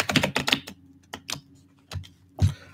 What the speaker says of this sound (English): I love the sound of the card shuffling.